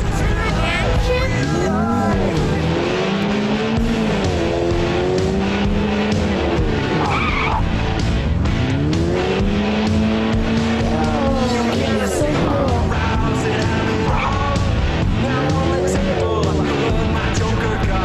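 A car in the video game Gangsta New Orleans skids with repeated rising and falling tire squeals over a loud engine roar, continuous and close throughout.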